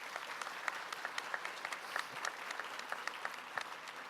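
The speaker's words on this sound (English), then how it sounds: "A round of applause for Manuel." An audience at an author panel applauds a writer, a steady crowd clapping with crisp individual claps that stand out and keep on for several seconds.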